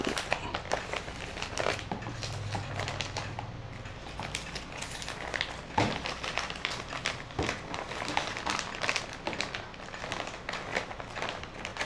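A plastic bag crinkles and rustles close by while limes are packed for storage, with irregular crackling handling noises throughout.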